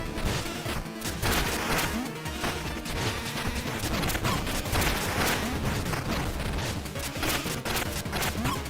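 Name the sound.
explosions in the video game Mina the Hollower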